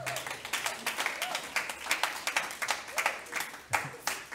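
A church congregation claps for an anniversary, giving a steady run of many quick hand claps at moderate volume that continues throughout.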